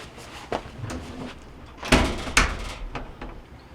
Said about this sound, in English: Lock those in, and then we can shut our door.